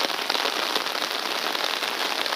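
Steady rain falling outdoors on a Seoul street in spring, a dense, continuous hiss of drops pattering on surfaces close by, with no voices.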